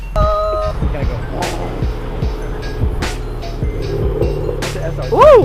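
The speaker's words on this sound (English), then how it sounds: "It's an SRT." A Dodge SRT Hellcat passes at a car meet, its engine note rising and sweeping close by over a busy background, with people talking excitedly throughout and a sharp swell at the end.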